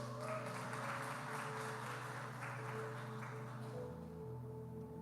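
A church congregation applauds steadily throughout, a dense wash of clapping over a sustained low musical drone, fairly quiet and continuous with no pauses.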